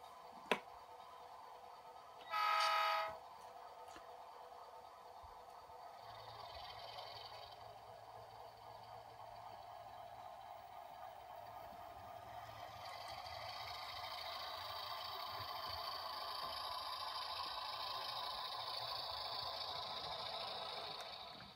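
A model railroad engine pulling only a caboose, no cars, runs across a layout during an operations session. A sharp click and a short horn-like blast come early, then a steady motor hum with light rattle builds louder toward the end, with no talking.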